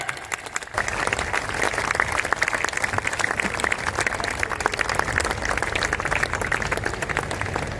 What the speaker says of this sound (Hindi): खड़े होकर के एक बार जोरदार तालियां, जोरदार तालियां